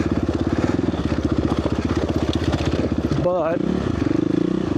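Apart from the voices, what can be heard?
motorcycle riding over rocky terrain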